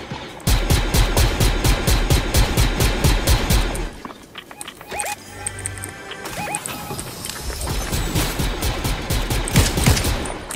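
Rapid gunfire bursts in the video game Fortnite, loud and close, with sharp repeated shots, a short lull of scattered softer impacts midway, then more steady firing.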